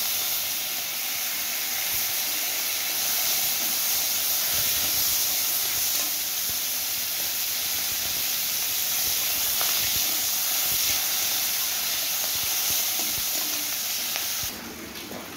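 Steady, loud hissing of hot mustard oil sizzling in a wok as a fish head is fried, continuous throughout with a brief drop near the end.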